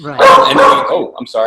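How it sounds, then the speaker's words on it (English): A dog barks close by under a person's voice, with the loud barking sound overlapping the speech in a short burst. "that's my dog."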